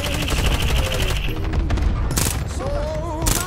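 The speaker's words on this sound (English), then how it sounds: "they're getting shot at from close" Rapid automatic gunfire from Call of Duty: Modern Warfare Warzone, dense bursts of close shots, some cracking loud, continuing throughout with brief gaps and faint voices underneath.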